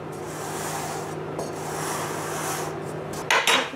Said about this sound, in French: je vais égaliser le dessus avec une cuillère